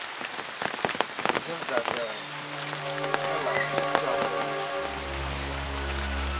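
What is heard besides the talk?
rain falling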